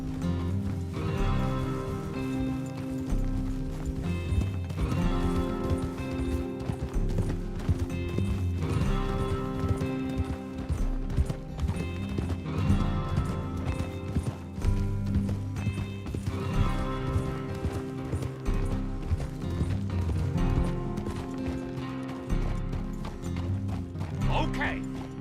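Galloping horse hooves in Red Dead Redemption 2 keep up a steady, dense clip-clop that runs throughout, mixed with game music and ambience, while voices talk over it.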